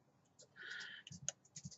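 Quick, soft clicks from a computer keyboard being typed on, a short flurry of light taps close by and faint over a quiet room.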